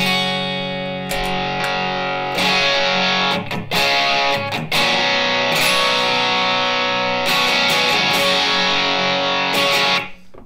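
Electric guitar played through a JHS Kilt pedal set as a higher-gain drive, alongside a Thor's Hammer, gives thick distorted chords that ring loud and sustained with brief pauses between strums.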